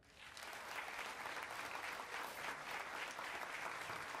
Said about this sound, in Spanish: Fuerte el aplauso por este gran esfuerzo